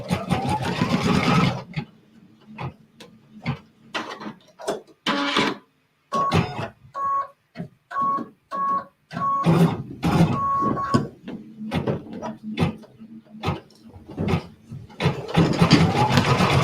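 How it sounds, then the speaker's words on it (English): A home sewing machine stitches a small X and a small square during a sew-along, running in short bursts of rapid mechanical whirring separated by pauses, with a brief stretch of speech near the end. "It's going to stitch a little X and a little square."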